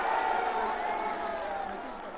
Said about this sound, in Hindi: हमारे साथ भाई मन्नू अंसारी जी, जोरदार ताली बजा के नौजवान का स्वागत करिए